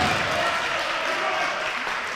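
Crowd at a men's futsal trophy final in a university arena in Wolverhampton, with a steady roar of cheering and noise filling the hall throughout, loud and continuous.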